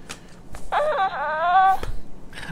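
Baby Yoda toy playing a short electronic sound effect, a brief cooing, wavering voice-like tone of about a second, framed by faint handling clicks.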